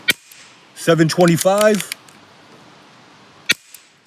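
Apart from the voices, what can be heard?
AEA HP SS air rifle firing H&N Hornets and Predator Polymags pellets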